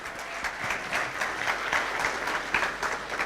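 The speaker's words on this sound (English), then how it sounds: "I think you can get a round of applause for that." An audience at a tech conference talk claps steadily, a dense, even round of applause from a crowd of listeners lasting the whole moment.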